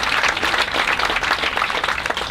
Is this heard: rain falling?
no